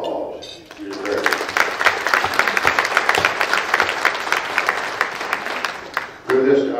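Audience applause at an American Indian scholarship event, steady and full for several seconds with dense overlapping claps that build then fade, bracketed by brief voice fragments at the start and end.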